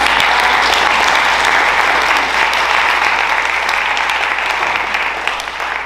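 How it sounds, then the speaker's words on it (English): Dense, steady applause from the audience at a panel on Central Iowa housing needs, loud and sustained before easing slightly at the end, with no speech over it. "I just want to give another round of applause."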